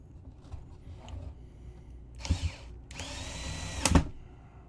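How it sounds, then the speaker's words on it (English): A power drill drives screws back into place during a GCLoader install: a short whirring burst, then a longer, steadier run of drilling with a hard spike near its end, fairly close and with no talking. "I have to drill a few things, a few screws back into place"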